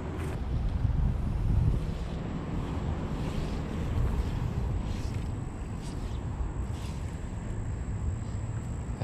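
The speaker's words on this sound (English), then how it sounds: "wind's in my face" Steady wind buffets the microphone outdoors while fly fishing for largemouth bass in Miami, Florida, a constant rumbling roar with a few stronger gusts and no talking.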